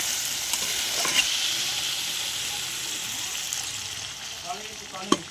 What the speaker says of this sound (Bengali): তাই আমি বরকলিটা দিয়ে দিচ্ছি, দিয়ে কষে নেব